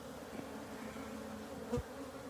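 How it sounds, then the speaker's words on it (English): Africanized honey bees buzz steadily at a hive, a continuous close drone with a brief louder swell near the end as one passes near. "these are fully Africanized bees"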